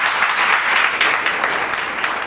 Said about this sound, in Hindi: ताली बजाकर प्रभु का धन्यवाद।